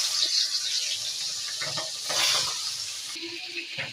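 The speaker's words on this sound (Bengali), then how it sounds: "এবার মাছটা ভাজা হচ্ছে।" Hilsa fish frying in oil in a wok, a steady soft sizzle with occasional crackles and brief clatter, moderately faint and close.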